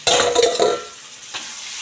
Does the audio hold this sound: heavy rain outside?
no